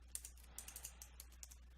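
Keystrokes on a computer keyboard, tapped in quick irregular bursts, faint and close with a steady low hum underneath and no talking.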